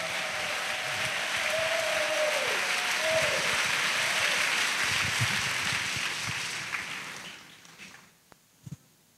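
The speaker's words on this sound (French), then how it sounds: "Let's clap to Jesus Christ." A church congregation claps and cheers during a sermon, a sustained roar of applause with a voice crying out early on, then fading to quiet with a few scattered claps.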